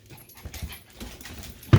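A male dog inside his kennel at home, producing soft panting and faint whimpering sounds with a louder bump or bark near the end, heard alone without talk.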